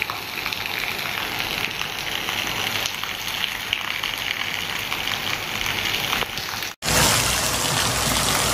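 Heavy monsoon rain falls in North Gujarat during the Magha nakshatra period, a constant broad rushing patter that breaks off abruptly and then resumes just as steadily.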